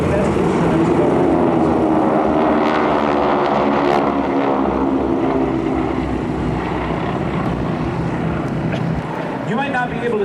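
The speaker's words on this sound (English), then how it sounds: "they use a 600 horsepower, 9-cylinder Pratt & Whitney radial engine" GEICO Skytypers planes with 600 horsepower nine-cylinder Pratt & Whitney radial engines drone loudly and steadily at an air show open house, a throbbing propeller roar with an announcer talking over it.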